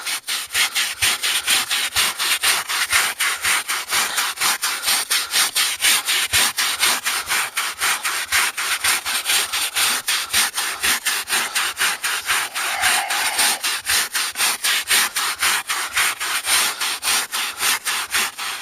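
Rapid, steady back-and-forth scrubbing of a stiff hand brush on car upholstery with fabric cleaner, close up and continuous, with no talking.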